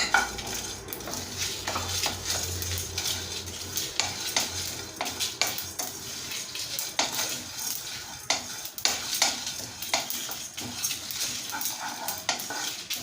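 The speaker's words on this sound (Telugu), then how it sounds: "ఒక 2 ఎండుమిరపకాయలు వేసేసి మంచిగా వేపుకోండి ఒకసారి" Dried red chillies roast with sesame seeds in a pan, a spoon scraping and clinking steadily against the metal in an irregular stirring rhythm over a faint sizzle, close and clear, with no one talking.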